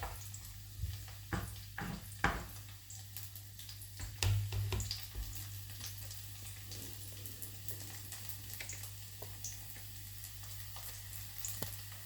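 Garlic sizzling in a pan with oil, the start of pancit with sardines, a steady low frying hiss with a few sharp crackles and stirring knocks early on, fairly quiet.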